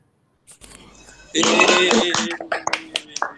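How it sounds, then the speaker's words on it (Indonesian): Short burst of classroom clapping from a group of students, sharp overlapping claps starting after a brief pause and tapering into scattered final claps, fairly close. "kasih tepuk tangan dulu dong untuk Bima"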